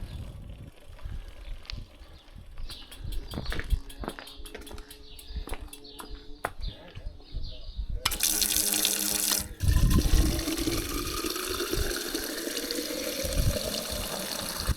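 Water gushes from a public drinking tap at a village rest stop in Trnovo, Slovenia, a steady hiss that starts midway and keeps flowing loudly, after a stretch of quieter outdoor noise with faint rhythmic ticking.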